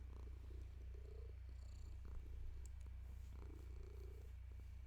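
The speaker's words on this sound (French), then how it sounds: "le chat se tape l'incruste" A cat named Choupette purrs softly and steadily close by, its low rhythmic rumble repeating in slow breaths over a constant background hum, with no talking.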